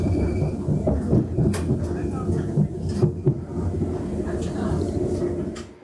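Steady low rumble of a moving train carriage travelling from Munich toward Austria, with occasional clunks and rattles, continuous throughout at moderate loudness.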